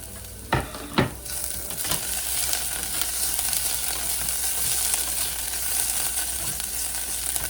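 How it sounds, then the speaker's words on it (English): Garlic sizzles in a pan with browned onions over medium to medium-low heat for a hot sauce, a steady close frying hiss with a couple of sharp stirring knocks near the start. "we can add our garlic. You want to add that and cook it for just about 30 seconds or so"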